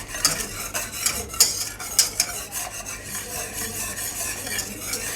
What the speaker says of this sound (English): Now the purpose of using a whisk is just to break up the flour evenly.